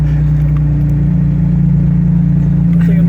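A 1953 Jaguar XK 120 runs with a loud, steady, low mechanical hum and whir, a constant close engine drone with faint higher whine and no talk.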